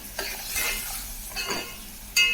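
Barnyard millet (bhagar) being roasted in a pan for sheera, a spoon stirring and scraping the dry grains with soft rustling sizzle, ending in a sharp clink of metal against the pan.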